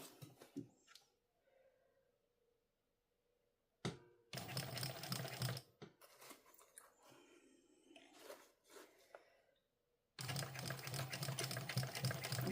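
A sewing machine stitches a sling bag in bursts, two long fast whirring runs and shorter stop-start stretches separated by quiet pauses and small handling clicks, close and clear, with no talking.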